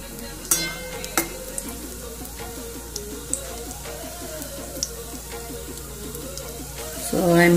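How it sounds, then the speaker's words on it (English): Dry-fried rava (suji) is stirred in a pan for halwa, giving a faint, soft scraping and gentle sizzle. A few sharp clicks ring out early, and the stirring grows louder toward the end. "So I am putting the already dry fry one in the pan, this suji, that is rava."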